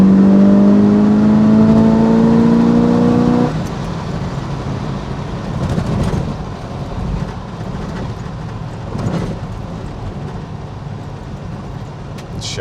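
An Oldsmobile Vista Cruiser wagon with a 455 big block V8 on a test drive gives a steady engine drone with a rising tonal whine for the first few seconds, then settles into a constant road rumble heard from inside.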